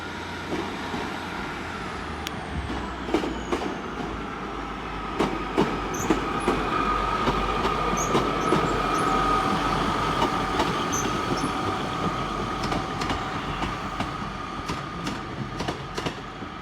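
A train rolls slowly out of Exeter St Davids station, wheels clicking over rail joints with sharp clanks and a faint squeal, steady and fairly loud at close range.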